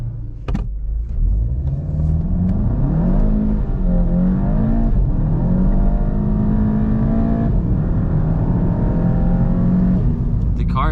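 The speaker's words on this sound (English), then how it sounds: "Let's do a hard pull from a dig and see if we can feel it." A VW GTI fitted with a Unitronic intake, air duct and turbo inlet launches hard from a standstill, its engine rising loud and close through the revs, easing off briefly, then pulling up again with a steady roaring drone.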